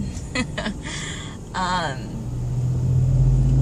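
A car interior while driving, with a low steady engine and road rumble that holds throughout and swells slightly toward the end, partly under a person's brief speech.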